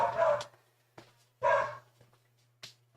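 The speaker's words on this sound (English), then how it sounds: "Dodo keeps barking" Dog named Dodo barking indoors, a few sharp separate barks with short gaps, fairly close and loud against a low steady hum.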